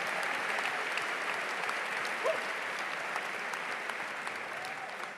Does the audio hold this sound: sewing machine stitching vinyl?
no